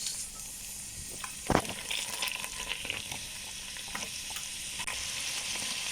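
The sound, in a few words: onion and chili sizzling in oil and margarine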